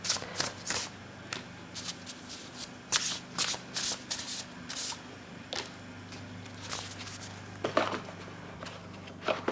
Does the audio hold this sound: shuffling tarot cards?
yes